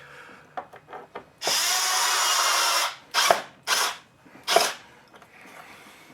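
A cordless power drill drives fasteners in a garage workshop: a few short trigger taps, then a sustained two-second whir, followed by three quick bursts, loud and close with no talk.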